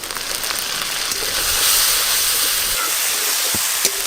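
Ground pointed gourd seed paste hits hot oil in a pan alongside fried garlic, ginger and onion, giving a loud, steady sizzling hiss that swells and holds, with a couple of faint utensil taps.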